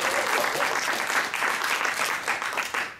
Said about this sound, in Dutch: Applaus voor Wayne.